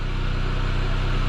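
Pontiac Sunfire or Chevrolet Cavalier engine idling just after a fuel pump replacement: a steady, close low rumble with fine regular pulsing and broadband noise, continuous and without talk.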